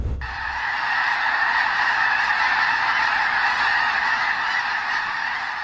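A huge flock of migrating snow geese honking, a dense continuous chorus of calls that starts abruptly and stays loud throughout.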